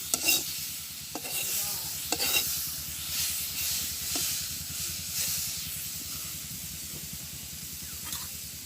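Onion frying in a pan in a village kitchen gives a soft, steady sizzle and hiss, broken by occasional scraping stirs, close and moderately quiet.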